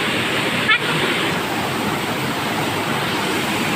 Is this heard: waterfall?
yes